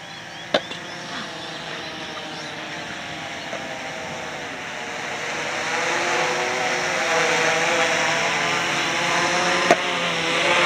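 A Blade 350QX quadcopter drone hovers with a steady, even propeller whine and hum that builds slightly louder over time, with one or two faint clicks and no voices.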